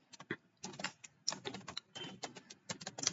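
Quiet bursts of rapid computer-keyboard typing, with short pauses between clusters of key clicks, as a login test script is written.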